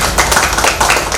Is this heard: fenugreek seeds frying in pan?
no